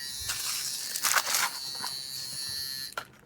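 A Buddha electric trimmer buzzes steadily in a wholesale market, a thin high whine that holds for about three seconds with a few brief clicks and rattles before it cuts off.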